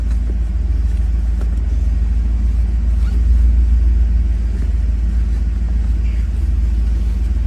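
Steady, loud low rumble of a 1991 Pontiac Firebird Formula engine running, heard from inside the car as it pulls away, with no talk over it.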